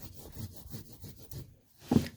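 A bone folder burnishing a scored fold in black cardstock: several quiet, rhythmic rubbing strokes close by, a short pause, then a brief sharper scrape at the end.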